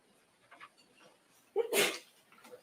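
A single sharp sneeze bursts out in a quiet courtroom after a couple of faint breaths or small sounds, loud and brief at close range.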